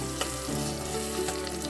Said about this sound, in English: So now I'm adding 1 cube of garlic ginger, coriander leaf paste.